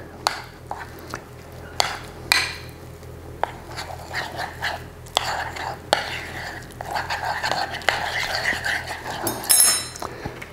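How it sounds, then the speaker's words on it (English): Egg and vanilla mixture for French toast whisked in a bowl, with irregular clinking taps and scraping strokes of a utensil close by and quiet in a kitchen. "Going to mix that up."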